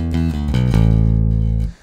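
A bass guitar plays a few quick picked notes, loud and close, then holds a sustained low note that rings for about a second before stopping, with no voices.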